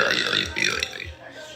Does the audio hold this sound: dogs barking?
no